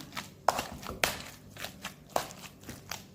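Butter is mixed into mashed potatoes in a kitchen, producing soft, irregular thumps and clacks of utensil against pot, several sharper knocks spaced about a second apart, fairly quiet and without speech.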